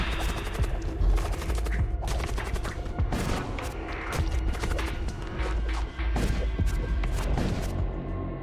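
Artillery firing in the video game Void War, with rapid repeated heavy shots and crashing impacts in a continuous loud barrage, layered over game sounds and music.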